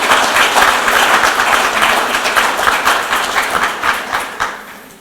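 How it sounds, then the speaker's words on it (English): Loud, dense applause from an audience in a parliamentary house, marking a prime minister's launch of three ministry strategic plan documents; steady clapping that thins and fades toward the end. "can we give a big round of applause once again for the launch of these 3"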